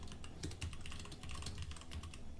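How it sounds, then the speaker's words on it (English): Fast, dense clatter of fingers on a computer keyboard, close and quiet, with rapid irregular keystrokes and no voices. "actually furiously typing"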